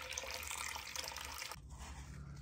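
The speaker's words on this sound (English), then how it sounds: "let's go in with 300 grams of water" Water from a tap runs and splashes into a bowl as 300 grams are measured for sourdough bread, a steady faint stream that cuts off partway through, leaving quieter drips and room noise.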